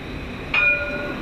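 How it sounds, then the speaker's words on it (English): A streetcar runs on its rails in Tenerife, a steady low rumble with a brief higher squeal or tone partway through, close by and with no voices. "Driving a streetcar underneath palm trees."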